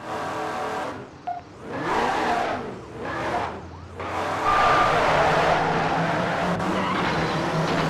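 A Gemballa Porsche Cayenne GT750 racing in Midnight Club 3, engine revving up and down through repeated surges with tire squeal, then holding a loud sustained roar at high speed, up close.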